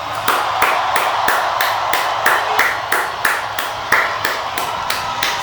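Crowd clapping in unison for a performer at a live show, rhythmic evenly spaced claps repeating steadily at a brisk pace, fairly loud and close, with no talk over it.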